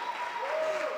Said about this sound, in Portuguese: Não, dá uma salva de palmas.